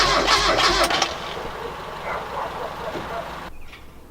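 A Mazda Miata engine cranks and tries to start after its fuel is primed, a loud churning burst for about a second, then a quieter sputtering that fades away without catching.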